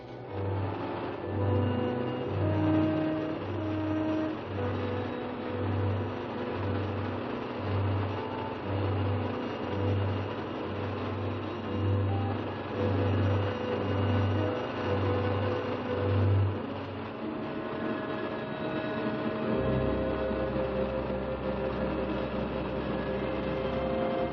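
Car engine running steadily in an old movie serial, with a rhythmic low pulsing engine drone over continuous road rumble, then the pulsing stops and a lower steady hum takes over near the end.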